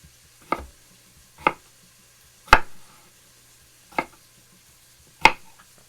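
Knife chopping potatoes on a cutting board for a homemade vegetable soup: five sharp, separate cuts spaced about a second apart, close and clear, with quiet gaps between and no talking.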